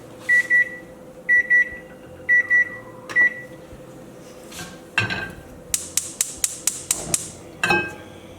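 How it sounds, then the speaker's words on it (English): A kitchen timer beeps in repeated short double pulses, followed by a door clunk and a rapid series of sharp knocks and clatters nearby. "Alright, so ringer has rung."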